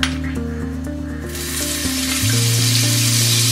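Butter melts and sizzles in a frying pan greased with a little oil, a steady close frying hiss that swells louder partway through, with no talking.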